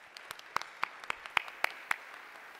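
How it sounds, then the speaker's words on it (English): Sparse, faint clapping from a few people at a spring fundraising dinner, with individual claps landing about every quarter second, some sharper and nearer, in an otherwise quiet room. "So let's give them a round of applause as well."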